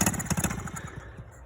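A 1969 Honda Z50A minibike engine cold-starts on choke, its small single-cylinder firing in a quick, loud, chugging pulse that loosens and settles over a second and a half.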